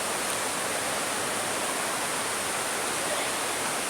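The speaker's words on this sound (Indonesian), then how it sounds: "Ini adalah air terjun di Sanggau Ledo" Riam Merawat waterfall in Sanggau Ledo, West Kalimantan, pours in a dense, constant roar of rushing water, loud and close, with no voices over it.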